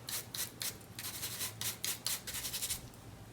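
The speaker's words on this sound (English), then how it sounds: "Now I can easily remedy this by taking my nylon brush and scrubbing out the discoloration." A nylon brush scrubbing rust spots off a metal pedicure tool, giving repeated short bristly rubbing strokes in a fairly quick irregular rhythm, close and soft, with no talking.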